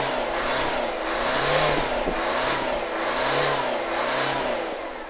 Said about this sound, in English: Let's give it a bit of a rev so you can see that there's no smoke.